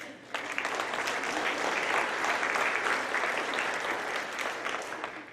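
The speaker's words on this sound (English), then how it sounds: "so let's give them a round of applause" Pageant audience at Miss Cherokee breaks into applause, rising abruptly into a full, sustained wash of clapping that holds steady and then tapers slightly toward the end.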